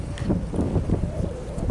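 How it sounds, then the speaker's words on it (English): Gusty wind buffets a microphone outdoors beside a fire-broiling trout cookout, a loud, rough, continuous rumble with no speech. "that wind's blowing"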